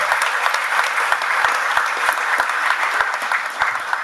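A large audience claps steadily at the opening of a university job fair, dense sustained applause filling the room without pause, loud and close.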